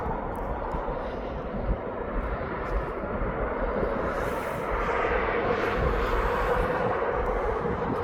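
A DHL cargo plane's jet engines at East Midlands Airport send a broad, steady roar across the apron, swelling slightly louder in the second half as the aircraft runs up, with no voices.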